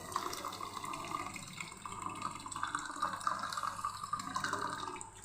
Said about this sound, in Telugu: మనం పప్పు అయితే కడిగి పెట్టుకోవాలి